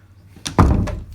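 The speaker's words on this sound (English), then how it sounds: "Shut the door so they don't come out." A door is shut in a house, one sharp close thump followed by a short rattling settle, loud and near.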